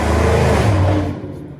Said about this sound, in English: that guy in his Mustang, he has like an exhaust on there that makes it sound like that